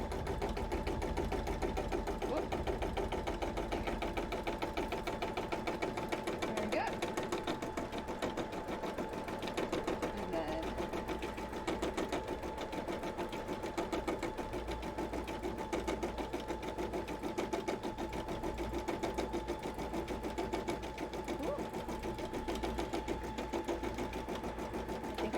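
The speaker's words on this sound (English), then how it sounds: "It's doing a very good job doing all of the embroidery right now." An embroidery sewing machine stitches continuously at home, a fast, even mechanical whirring and rapid needle clatter that runs steadily throughout at a moderate, fairly distant level.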